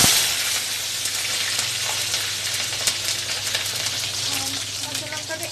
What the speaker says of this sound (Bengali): এরপর কাঁচা লঙ্কা দিয়ে দেবো